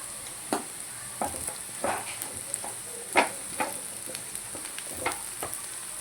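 Ivy gourd and potato pieces fry in a pan, giving a steady sizzle and hiss broken by repeated scraping stirs of a spoon, close and moderately loud.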